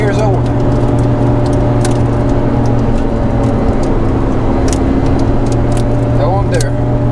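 A Ferrari 430 Scuderia cruising on wet roads in heavy rain and snow, with a steady, loud engine drone and road roar from inside the cabin, while someone talks over it.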